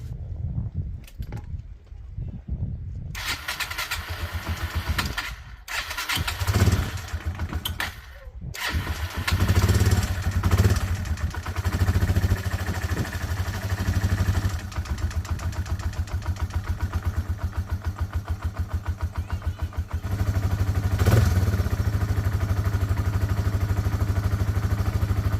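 A Yamaha TW200 motorcycle fitted with a swapped carburetor cranks and catches, then settles into a steady, close, thumping single-cylinder idle that rises briefly and keeps running to the end.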